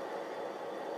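A Bluerail model train locomotive starts to run, giving a steady close rumbling hum of motor and wheels on track.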